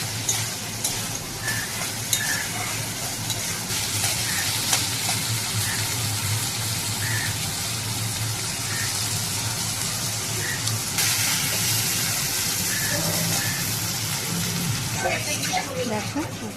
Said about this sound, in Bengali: দেখো এখন ভালোভাবে আমি কষিয়ে নেড়ে নিয়েছি।